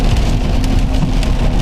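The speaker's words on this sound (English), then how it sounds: "It wasn't raining as heavy as it is right now" Heavy rain pours down in a dense, constant hiss, loud and close, drumming on surfaces with scattered sharper drops and no voices.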